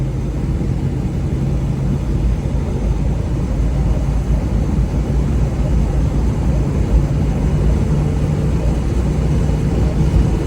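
A 1930 Ford Model A limousine driving on the road, its steady engine drone and road rumble continuous and fairly loud throughout, with no voices.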